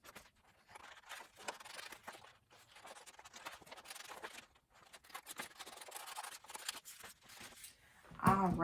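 Scissors snip and rustle through brown paper while a hand-shaped tree trunk is cut out, giving soft, intermittent close-up scraping and crinkling, faint and uneven, with a sharper handling sound at the end.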